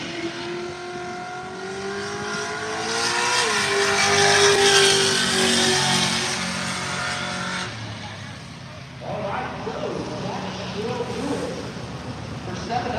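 Race cars, including two orange Mustangs with small tires, roar around a track, engines rising and falling as they pass loudly nearby, with a fainter car passing later under someone talking.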